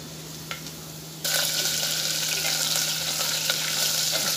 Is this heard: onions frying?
yes